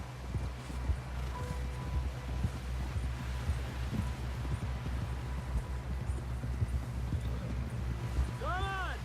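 Horse galloping in Red Dead Redemption 2, a steady, rapid clip-clop of hooves close by for the whole stretch, with a voice speaking near the end.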